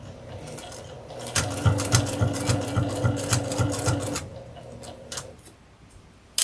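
A sewing machine stitches fabric for a Halloween reversible table runner made from fat quarters, running in a quick even burst of ticking stitches for a few seconds, close and fairly quiet, then stopping.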